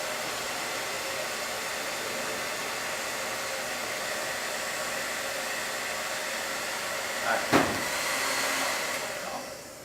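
A hair dryer runs steadily and loudly up close, blowing hot air onto a thermometer, with a brief knock and a small shift in tone near the end.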